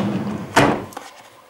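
A drawer in a craft room slides open with a single loud thunk near the middle, followed by a fainter knock and a fading rustle.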